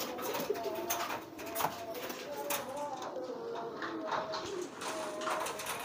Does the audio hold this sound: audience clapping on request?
no